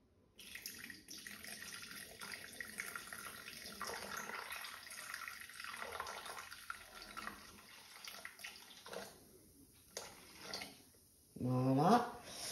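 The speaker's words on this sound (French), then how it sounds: "200 g d'eau gazeuse. Donc de l'eau gazeuse." Sparkling water is poured into a container for a dessert recipe, a steady gentle stream with fizzy hiss that runs on, then breaks into a few louder splashes near the end; a voice talks faintly at the close.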